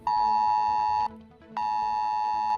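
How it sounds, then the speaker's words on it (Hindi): Loud emergency alert tone from an Indian government public-safety notification on a phone: two long, harsh, steady beeps separated by a short gap, heard clearly with no talking. "एक जोर सी बीप आएगी"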